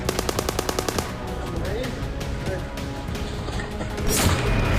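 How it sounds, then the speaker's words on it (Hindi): A rapid burst of automatic gunfire in quick, even shots from windows during an urban clash in Israel, followed by rumbling and scattered bangs under a continuous noisy background. "खिड़कियों से फायरिंग कर रहे हैं"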